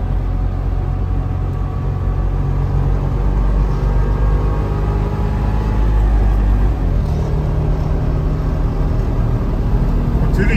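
A Trabant 601 drives over light slushy snow, its small engine droning steadily up close with road and tyre rumble beneath, one continuous mechanical noise with no talk.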